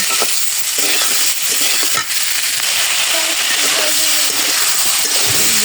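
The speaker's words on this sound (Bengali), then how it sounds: "এখানে কয়েকটা কাঁচামরিচ দিয়ে কষিয়ে নেব" Chili powder and green chilies frying with spices in a pan, a loud, continuous sizzle with scraping and stirring noises running throughout, plus a brief sharper clatter near the middle.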